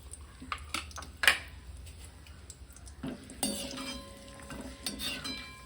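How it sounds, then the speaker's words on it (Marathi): Cashew slices and almonds frying together in a pan of hot oil, a faint sizzle under scattered clinks and scrapes of a stirring spoon against the metal, with no voices. "हे काजूचे काप होते आणि हे बदाम होते ते एकदमच मी दोन्हीही फ्राय करून घेते"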